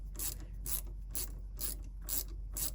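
An impeller shaft being wound into a marine generator's raw-water pump in a tight space, giving a repeated ratcheting, rubbing click about twice per second, six even bursts, close and quiet with no talk.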